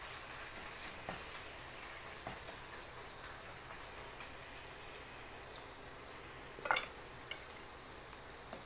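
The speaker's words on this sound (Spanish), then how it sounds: "Vamos a ver si ya chilla la cazuela." Chorizo sizzling in a clay pot, a soft, steady sizzle with a few sharp clinks and scrapes near the end.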